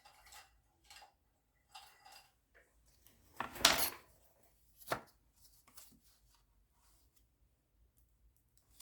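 Foam being cut into a pattern for a pottery bunny project: sparse, quiet clicks and scrapes, with one louder rasping cut midway and a few short snips in otherwise quiet surroundings.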